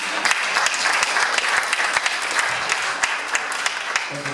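Audience applause at a district candidate forum in Bryant Park, a dense, steady clapping from a room full of people that runs unbroken and fairly loud throughout.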